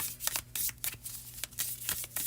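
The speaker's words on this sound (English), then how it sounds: "I'm shuffling sloppily" A deck of tarot cards shuffled by hand in quick, slightly sloppy bursts of riffling and sliding, close and fairly soft, with short pauses between passes and no talking.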